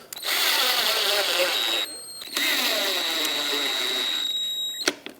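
A power drill tightens fog light screws into plastic mounts on a 2014-2021 Mazda 6. Two loud, close whirring runs are split by a brief pause, and the second ends in a sharp click.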